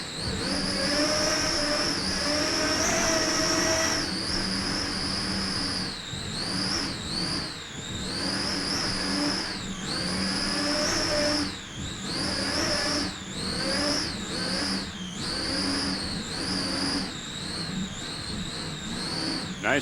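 Bacardi Silver, an offshore racing powerboat at a Daytona Grand Prix, roars at high speed with a loud, sustained engine drone that repeatedly rises and dips in pitch as the boat slams across the waves.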